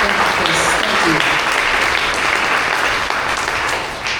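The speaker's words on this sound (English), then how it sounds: "So can we please give them another round of applause?" Audience applause at a teen clinic's autumn fundraising gala, loud sustained clapping from a crowd, close and dense, with voices and cheers mixed underneath before it tapers slightly at the end.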